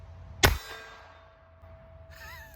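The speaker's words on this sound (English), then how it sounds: "We are shooting at some shooting targets, 7 targets." A single sharp report from a Davis Industries D-22 .22lr derringer fired at steel targets, followed by a ringing metallic ping that fades, then a faint higher clatter near the end.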